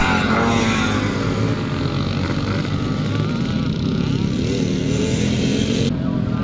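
Classic motocross bikes, one a CZ, race at a Scottish classic motocross round in Penrith, their loud, rasping two-stroke engines revving and droning continuously close by, rising and falling as the machines power around the track.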